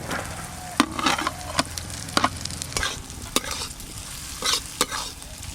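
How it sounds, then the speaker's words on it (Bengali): Fried potatoes are stirred into sizzling masala, with several sharp spoon scrapes and clinks against the pan over a continuous soft frying hiss. "মশলার সঙ্গে আলু তো ভালো করে মেশানো হয়ে গেল"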